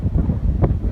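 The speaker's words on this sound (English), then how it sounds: "Oh, it's too windy out here." Strong wind blows outdoors beside a boat, buffeting the microphone with loud low rumbling gusts and one sharper swell of noise.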